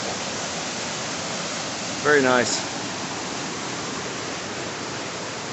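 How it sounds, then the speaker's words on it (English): A waterfall on the Abol River along the Appalachian Trail in Maine gives a steady, close rushing roar throughout, with someone briefly speaking over it midway. "we're getting into the waterfall section now"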